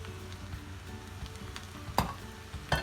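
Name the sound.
paneer fried rice sizzling as spring onion greens are added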